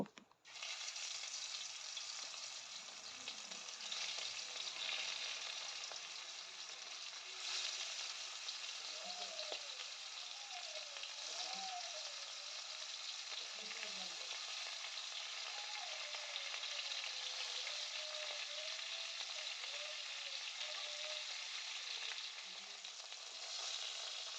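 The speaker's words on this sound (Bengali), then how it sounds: "তেলটাকে ভালো করে গরম করে নিয়ে এক এক করে মাছগুলো ভেজে নেব" Foli fish pieces fry in hot mustard oil in a kadai, a steady, bright sizzle that runs continuously throughout, with occasional soft stirring and a faint voice underneath.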